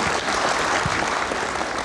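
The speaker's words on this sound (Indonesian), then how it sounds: "Kita kasih tepuk tangan dulu untuk teman-teman UIN." Audience of university students clapping steadily at a political campaign forum, a dense, continuous wash of applause filling the whole stretch.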